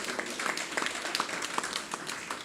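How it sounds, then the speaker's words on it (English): Scattered clapping from a small audience at a political party branch meeting, faint and somewhat distant, with light irregular claps over a couple of seconds. "Please give her a round of applause."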